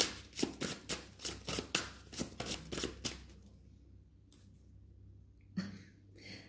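Tarot cards handled from a deck during a reading, a quick series of crisp riffling, flicking snaps close by, then a quieter stretch with a single soft card sound near the end.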